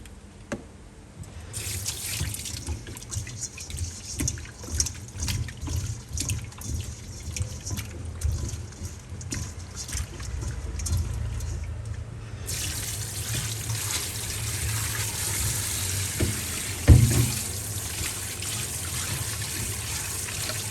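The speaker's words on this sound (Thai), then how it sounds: "ล้างจนกว่าน้ำจะใสนะคะ ล้างจนกว่าจะสะอาดแบบนี้นะคะ" Tilapia fish are washed under a running tap in a sink, with steady splashing water, occasional drips and a brief clunk near the end, close and continuous.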